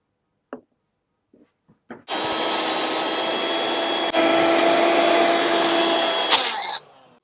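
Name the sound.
mixer grinding green chillies and curry leaves into paste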